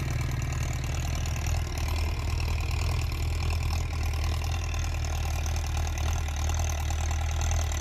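Yanmar tractor engine, 57 or 49 horsepower, plowing a rice field and driving closer from a distance, with a steady low diesel rumble and knock that holds throughout without speech.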